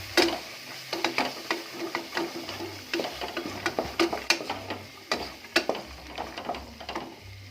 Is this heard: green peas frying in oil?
yes